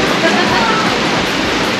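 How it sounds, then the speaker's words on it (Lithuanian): Heavy rain pours down in a dense, loud, unbroken roar, like rushing water, holding level for the whole stretch with no clear voices on top. "jau toks lietus prasidėjo"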